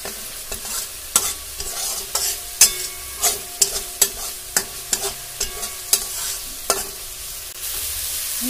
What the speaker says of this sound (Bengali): হলুদ গুঁড়ো, লঙ্কার গুঁড়ো দিয়ে দিলাম, দিয়ে মশলাটাকে ভালো মতো কষাবো